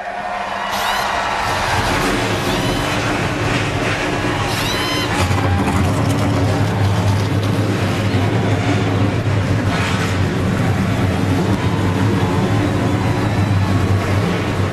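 Several NASCAR Camping World trucks at Texas Motor Speedway fire up at once, a loud, dense engine roar swelling into a steady low drone that holds under heavy crowd and ambient noise.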